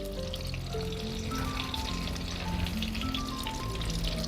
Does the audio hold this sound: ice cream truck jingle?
no